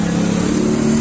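A loud, steady motorcycle engine drones close by, its low throbbing hum running continuously with no voices, from a noisy motorcycle under repair.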